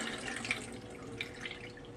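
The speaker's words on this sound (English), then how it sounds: "I'm going to be pouring this off" Milky water from rinsing rice pours out of a bowl, a soft, quiet trickling splash with small drips, close and alone.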